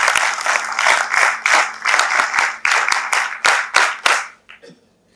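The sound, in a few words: audience applause at a talk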